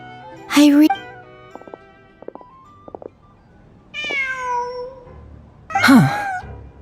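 A cat in the video game Genshin Impact meows a few times, with a loud opening cry, a softer mid call and a final drawn-out meow, separated by small soft clicks and quiet pauses.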